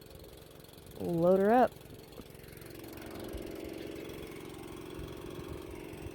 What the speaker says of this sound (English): get the motor going